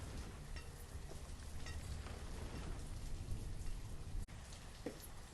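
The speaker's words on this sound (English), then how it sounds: "Why is it raining all the time?" Rain falls steadily in the video game Banished, a soft, continuous patter of drops with low rumbling beneath it, quiet and unbroken apart from a brief cut near the end.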